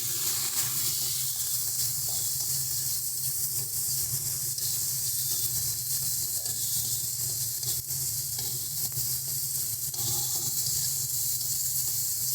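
Chopped tomato going into spices frying in a pan, a loud steady sizzle and hiss with a watery crackle, running unbroken for about twelve seconds with faint stirring beneath.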